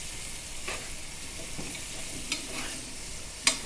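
Beans and carrots are stirred in a hot pan, with a soft continuous sizzle and a few scraping strokes and light clinks of the spoon, close and quiet.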